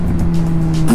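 A loud motorcycle engine runs steadily at close range with a deep, throaty drone, rising slightly near the end, with the crackle of backfires through the exhaust.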